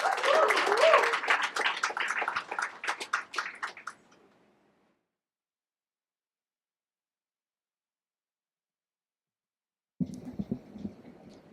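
An audience applauds a poet at a fundraiser sit-in and anthology launch, with a dense burst of clapping that fades out after about four seconds. Silence follows, then a single voice begins speaking.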